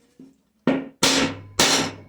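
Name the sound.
hammer pounding wood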